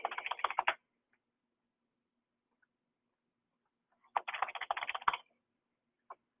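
Two quiet bursts of rapid tapping on a computer keyboard while entering payment amounts, separated by a few seconds of near silence, with a lone faint keystroke at the end.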